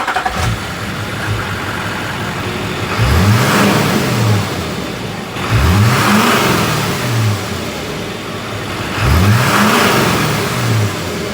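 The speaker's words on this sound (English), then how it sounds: "I'm going to go ahead and crank it up, give it a few little revs so you can kind of hear what it sounds like" A Duramax LLY diesel truck fitted with a Banks cold air intake idles with a steady rumble, then revs three times in evenly spaced bursts, each rising and falling back to idle, close and loud.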